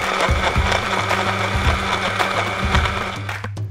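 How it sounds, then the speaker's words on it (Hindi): Blender whirring through mint, lemon juice, sugar, salt, fizzy drink and ice for a mint margarita, a loud continuous motor drone with rattling pulses, cutting off at the end. "अब हमने इसको अच्छे से ब्लेंड करना है।"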